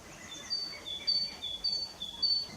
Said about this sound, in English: Sparrows are known for their distinctive chirping songs